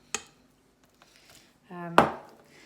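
Hardened homemade body butter being broken up in a container: a sharp crack, a few faint scrapes, then a short grinding scrape ending in a louder crunching break, close and quiet.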